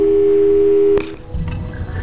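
A steady telephone tone from the Portal 2 video game sounds for about a second, then cuts off into a short electronic click and faint dialing beeps.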